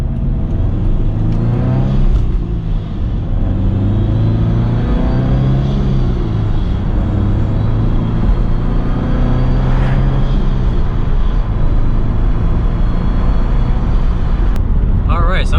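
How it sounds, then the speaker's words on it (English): Supercharged Subaru BRZ with a new catback exhaust cruising, its steady low engine drone and road rumble continuous and close throughout, with a brief rise in revs near the middle and someone talking over it. "Car sounds really good right now."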